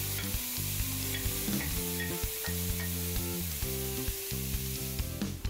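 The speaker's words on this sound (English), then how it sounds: "Heat a casserole pan over medium heat. Then add the ground beef." Ground beef fries in a casserole pan over medium heat, with a continuous close sizzle and faint stirring scrapes over steady background music.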